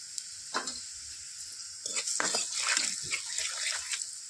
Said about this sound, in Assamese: লৰাই আছোঁ অকণমান সময়।